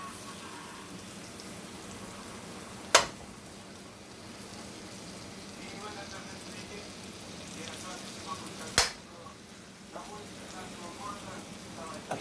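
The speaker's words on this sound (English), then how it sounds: "now I'm going to add in my stick of butter." A stick of butter sizzles softly as it melts in a pan for homemade Alfredo sauce, a steady quiet crackle running under a person talking, with two sharp clicks or knocks along the way.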